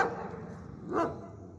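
One street dog gives a single short bark, faint and somewhat distant, over a low steady background.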